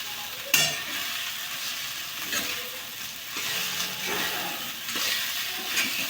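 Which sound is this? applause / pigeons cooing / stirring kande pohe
stirring kande pohe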